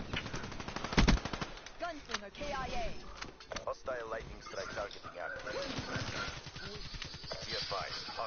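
Rapid automatic gunfire in a Black Ops 3 multiplayer match, with loud bursts and rattling fire throughout under a player's continuous excited talking.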